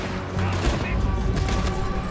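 Gunfire in the video game Red Dead Redemption 2 during a firefight, dense overlapping shots and booms with continuous noisy background, loud and busy throughout.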